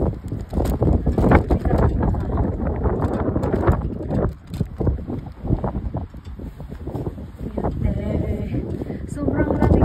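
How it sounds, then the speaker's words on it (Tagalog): Strong wind buffets the microphone outdoors at a cold Day of the Dead gathering in Calgary, a continuous low rumbling roar with gusts that dip and surge, while people talk over it. "Ang lakas kasi ng hangin."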